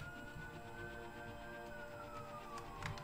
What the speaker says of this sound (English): Don't mind the ambulance.